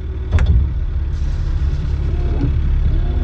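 Sailboat engine running in gear after the anchor is raised, a steady low rumbling drone close by, with a brief knock near the start and no talk.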